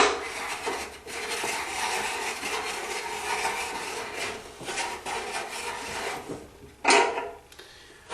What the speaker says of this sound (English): Use key number 13 to screw the nut.